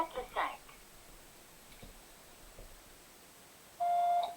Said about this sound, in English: At the tone, please record your message.